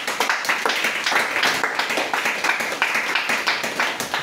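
A church congregation claps in praise of the Lord during a worship service, with steady, fast, loud rhythmic handclaps from many people over a few seconds and faint voices mixed in.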